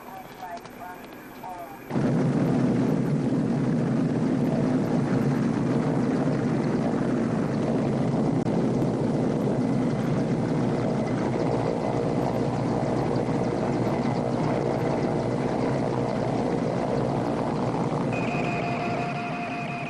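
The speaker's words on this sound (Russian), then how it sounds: "Нас ждет вертолет." After a quiet start, a loud helicopter roar with rapid rotor chopping sets in and holds steady for the rest of the clip, in the hot Karakum desert.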